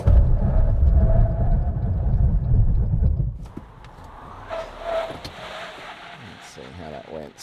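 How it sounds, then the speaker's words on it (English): A 2025 Toyota Kluger brakes hard from 100 km/h: a loud low road and tyre rumble fades over about three seconds as the car slows, leaving a quieter cabin with a voice speaking afterward. "let's do a stop from 100 to see what the brake and tyre package is like"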